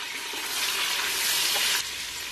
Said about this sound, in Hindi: अब इसमें ऐड करेंगे चिकन, साथ ही इसमें ऐड कर देंगे नमक और इसको 2 मिनट तक फ्राई कर लेंगे।